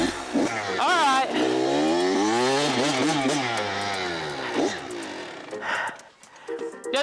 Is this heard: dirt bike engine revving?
yes